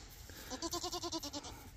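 A goat on a farm bleats in one long wavering cry with a rapid pulsing tremble, close by and moderately loud over a steady background hiss.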